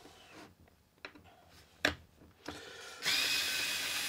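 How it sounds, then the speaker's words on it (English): A Parkside Limited Edition black and gold cordless drill driver backs out of a piece of pine after a few faint clicks and bumps, then whirs steadily and close up in reverse for the last second, with no talk. "Let me reverse that out of there."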